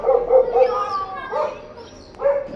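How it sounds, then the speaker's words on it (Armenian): Dogs bark and yip in a residential courtyard in Yerevan at night, a few sharp close barks with whining tones between them, fairly loud and without talk. "Այս է շները, սաղ գիշեր հաչում են։"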